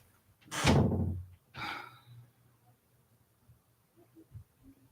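A door is pushed shut indoors, a dull heavy thud followed by a softer latch knock, moderately close, then faint rustling and quiet room noise.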